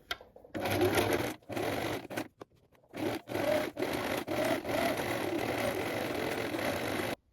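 Topstitching runs along a shirt 5 mm from the edge with a lengthened stitch, the sewing machine whirring in several bursts of varying length, separated by brief stops and a near-silent gap early on.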